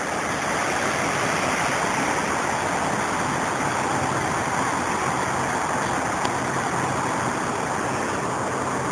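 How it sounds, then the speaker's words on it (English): Steady, full-bodied rush of a waterfall on the Los Gatos trail, heard from directly above it, loud and continuous throughout with no pauses, a broad roaring wash of falling water close by. "I'm right over the waterfall now."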